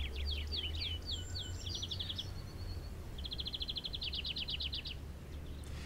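Greenfinch calls, a small finch of towns and villages, ring out as bursts of bright chirps and a rapid trilling run, moderately close, over a steady low background hum with no talking.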